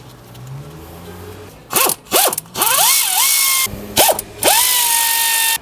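A power tool tightens the brake caliper bolts on a 2020 Mazda CX-9: several short rising whirs and buzzing bursts of a drive spinning up, close and loud, separated by brief pauses with no talking.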